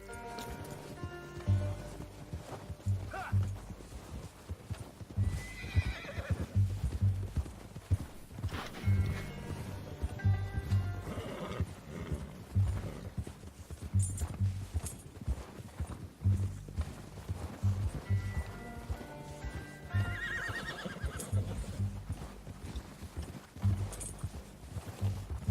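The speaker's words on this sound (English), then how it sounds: "get back on your horse" Horse hooves clip-clop steadily on the ground in Red Dead Redemption 2, with occasional neighs and whinnies breaking in over the rhythmic footfalls.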